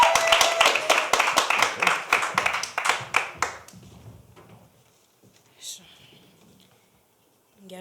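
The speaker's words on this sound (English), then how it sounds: "Let's give her a round of applause" Audience at a youth poetry session claps for a student performer, a burst of dense clapping that thins out and fades within a few seconds, leaving near silence with a few faint stray sounds.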